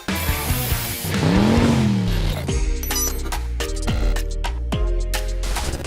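A dusty Lexus LS400 car sounds close by, giving a steady engine and mechanical noise with several sharp knocks and clicks in the second half, and no talk.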